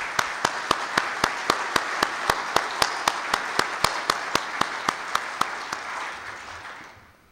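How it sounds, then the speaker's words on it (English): An audience applauds in welcome for visiting Korean guests at a naval engineering gathering, steady dense clapping with regular sharp accents, then fading out near the end. "we'd like to give you a round of applause and welcome you here"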